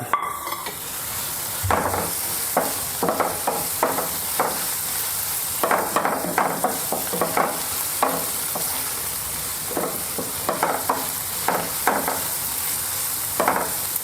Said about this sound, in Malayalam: നമ്മൾ എടുത്തു വെച്ചിരിക്കുന്ന ഒരു പച്ചമുളകാണ് കട്ട് ചെയ്തത് എരിവെള്ള മുളകാണ് കേട്ടോ അതിട്ട് കൊടുക്കാം